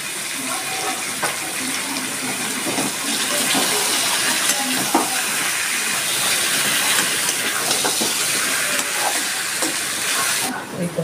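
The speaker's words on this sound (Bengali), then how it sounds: "আমি এবার চিকেনটা এর মধ্যে দিয়ে দিচ্ছি।" Chicken, pre-boiled with a little turmeric, goes into a pan of fully fried spiced masala, giving a steady, loud broadband sizzle that stays constant throughout with no talk.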